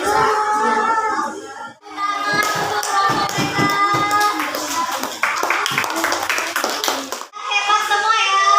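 A class of schoolchildren applauds together for all the groups, steady clapping across the clip with brief pauses, with children's voices mixed in the classroom.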